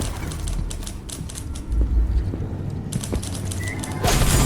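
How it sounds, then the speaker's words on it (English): Typewriter keys being struck in the video game Dishonored: Death of the Outsider, a run of quick sharp clacks at a steady rhythm heard over low game ambience. "Who's typing?"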